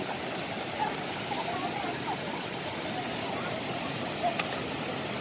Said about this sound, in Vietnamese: Thả mình vào dòng nước suối của quê nhà đó